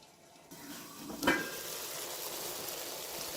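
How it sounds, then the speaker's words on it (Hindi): Mixed vegetables fry in oil with a steady, close sizzle, and a utensil briefly scrapes and clinks against the pan partway through before the crackling settles again. "मैं इसी तरीके से सारी सब्जियों को भून रही हूँ। और ये देखें अब ऑयल भी निकलना शुरू हो चुका है।"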